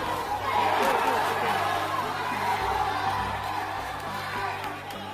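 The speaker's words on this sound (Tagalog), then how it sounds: "Yung mga tao talagang hiyawan sila eh." Boxing arena crowd at a Pacquiao–Llover fight, a steady roar of shouting and chatter filling the hall, loud and continuous with a commentator's voice over it.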